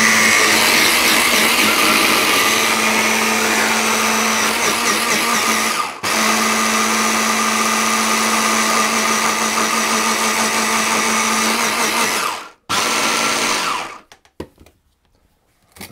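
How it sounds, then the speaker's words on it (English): Whole almonds being ground finely with lemon zest in an electric grinder or food processor, a loud steady motor whir in two long runs separated by a brief stop, then cutting off, with no talk. "I'm just going to grind those till they're a little bit finer"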